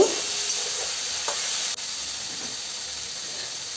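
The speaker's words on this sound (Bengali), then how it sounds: "এইবার আমি আরও একটু নাড়াচাড়া করে নেব" Vegetable soup ingredients with a little turmeric and salt being stirred in a hot pan, giving a steady close sizzle and hiss with a few soft scrapes of the spoon.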